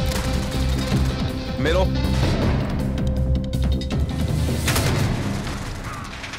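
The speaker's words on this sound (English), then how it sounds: "I'm shooting this guy" Modern Warfare gameplay gunfire cracks and booms in bursts with explosion-like hits, loud and close, while players talk over the shooting.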